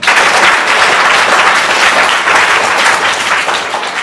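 A studio audience at the Kaun Banega Champion quiz game show bursts into loud, dense applause that holds steady for about four seconds, then eases slightly at the end.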